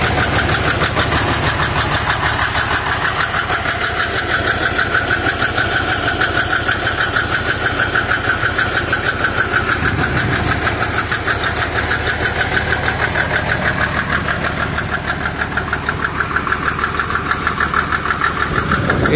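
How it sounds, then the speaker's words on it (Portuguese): A Massey Ferguson 95 diesel tractor engine runs steadily and loudly at close range, with a continuous rough mechanical chug and knock throughout. "esse é o Massey Ferguson 95 discos."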